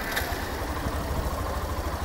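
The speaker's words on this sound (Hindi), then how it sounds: "एक इसका ना मैं आपको एग्जॉस्ट नोट दिखाता हूँ" A Hero Xtreme 125R motorcycle idles steadily for a couple of seconds, its exhaust giving a low continuous thrum at moderate volume with no voices.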